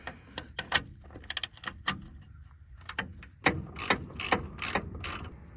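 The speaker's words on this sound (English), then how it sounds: "Big old ratchet on there." Big ratchet wrench cranking a ball joint nut loose on a GMC S-15 pickup's suspension, a series of sharp metallic clicks in short bursts, some rapid and clustered, close and fairly loud.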